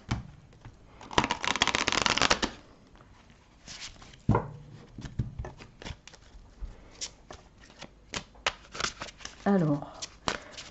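Oracle cards are shuffled by hand for a tarot-style love angels reading, with a dense riffling burst followed by scattered flicks and slaps of cards while someone speaks in French.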